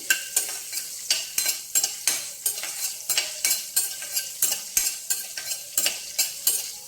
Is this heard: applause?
no